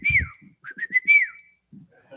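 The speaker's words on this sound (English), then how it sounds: "So he came up with a whistle." A person whistles a short signal call: a sliding note, then a quick run of chirps and a held tone, like a quail call, close and clear.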